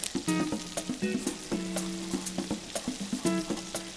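Pot roast meat sizzles steadily in a hot pan, with close clinks and scrapes as the pieces are turned and shifted, and a continuous frying hiss underneath.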